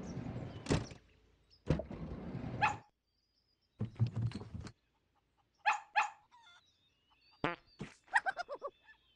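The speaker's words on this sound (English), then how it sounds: "Dog." Barking of a cartoon dog in a children's animal-learning video game, several separate short barks and yips spaced by silence, with a light musical chime and a whimpering run of yelps near the end.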